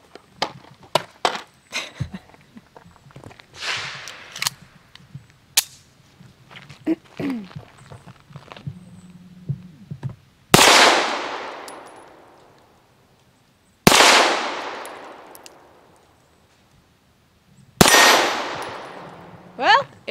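A Llama Micromax .380 1911 pistol fires Liberty Civil Defense 50 grain ammunition, with three loud, sharp shots several seconds apart, each leaving a decaying echo. Quieter clicks and handling noises come first.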